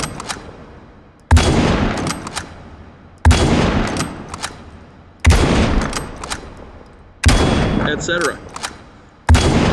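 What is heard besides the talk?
bolt-action rifle gunshots in video game H3VR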